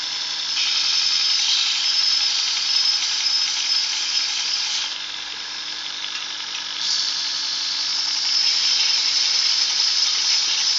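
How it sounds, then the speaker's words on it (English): A woodturning chisel held against a powered sharpening wheel, a continuous high grinding whine that dips briefly in the middle before resuming, steady and close, with no talk. "Just sharpening my ickle chisel."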